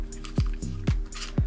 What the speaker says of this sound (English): And then I just add a little bit more of my water.